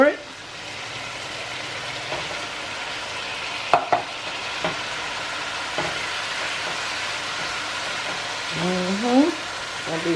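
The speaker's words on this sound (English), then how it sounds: "So we're gonna put the tomatoes in first," Tomatoes sizzling and frying in a pan for sherry chicken, a steady crackling hiss with occasional spoon scrapes and stirring clatter, close up, with brief voice sounds near the end.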